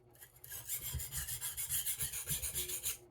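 A Farberware chef knife's heel rasps back and forth on an Arkansas sharpening stone in a quick, even run of close scraping strokes, with no voice.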